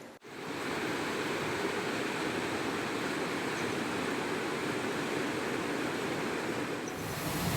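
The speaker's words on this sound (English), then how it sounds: "It funnels the water through a really tight gorge, and it's just this beautiful sound." The River Findhorn at Randolph's Leap rushes through a tight rocky gorge in a dense, steady roar of churning water, loud and constant throughout with no voices.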